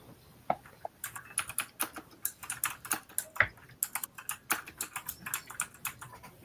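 Someone types on a computer keyboard in quick, uneven bursts of clicks with short pauses, close by and alone without talk.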